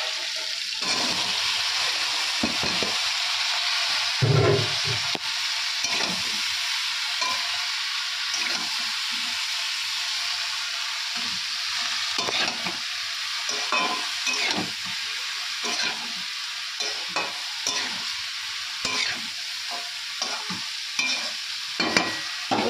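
Vegetables frying and being stirred in a pan for a Bengali fish dish, a loud continuous sizzle broken by repeated scraping stirs, close up with no talking.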